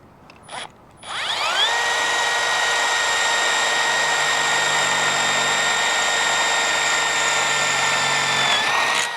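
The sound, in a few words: power drill drilling holes for Jeep Gladiator light bar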